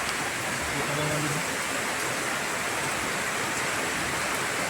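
Heavy rain pours down in a constant loud hiss, an even wall of sound with no breaks, and a brief voice surfaces faintly near the start.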